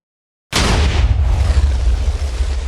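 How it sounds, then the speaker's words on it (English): A sudden loud artillery blast in Minecraft Chaos Edition bursts in after half a second of silence, then rolls on as a sustained rumbling roar with deep low boom and crackling debris. "Artillery, of course it's artillery now."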